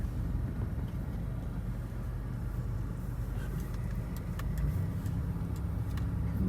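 A vehicle drives slowly through Fort Worden State Park, its engine and tire rumble steady and moderately loud throughout, with faint ticking and rattling on top and no talking.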